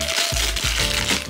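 Crinkling plastic of a mystery toy bag being pulled open: short crackly bursts close to the microphone, with a low hum underneath.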